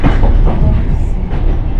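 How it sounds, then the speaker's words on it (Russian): A train rolls through a station on the line to Gryazi-Voronezhskie, loud and close, with rumbling wheels and rhythmic clatter. "вот мой поезд"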